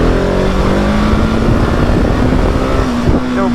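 A 2020 Husqvarna 701 SM motorcycle pulls hard in second gear for a throttle wheelie, its loud close engine note climbing steadily with a rough single-cylinder rasp, no voices over it.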